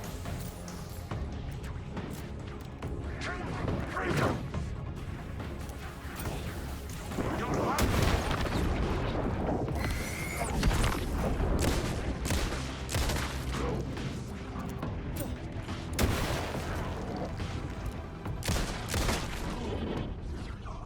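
Grenade explosions in Alan Wake II, with repeated booming blasts and crackling gunfire in a chaotic fight, mixed with voices talking over the noise.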